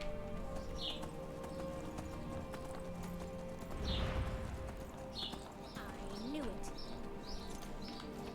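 A horse in the Skyrim video game trots with quick clip-clop hoofbeats and lets out a whinny, set against faint bird chirps, with a voice speaking over it.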